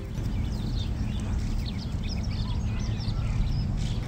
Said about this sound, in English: these birds chirping are very relaxing